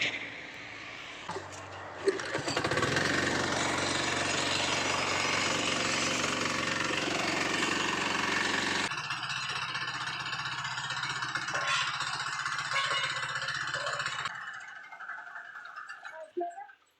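A farm machine's engine catches after a brief start and runs loudly and steadily for about twelve seconds, its rough mechanical roar dipping partway through, then it cuts out and leaves quieter background sounds.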